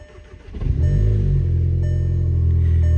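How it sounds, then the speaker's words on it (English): A Volkswagen Mk7 GTI engine cranks briefly and catches, then settles into a steady, loud idle rumble close by. "Now what I'm gonna go ahead and do is just start the car."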